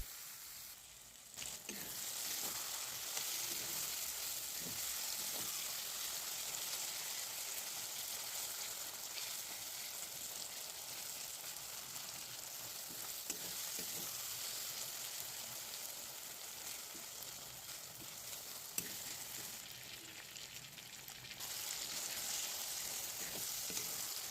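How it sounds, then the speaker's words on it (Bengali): Continuous soft sizzle of chopped tomatoes frying in a pan, with occasional faint stirring taps, quiet and steady throughout. "সামান্য একটু নুন দিয়ে টমেটোটাও ভেজে নেওয়া হচ্ছে"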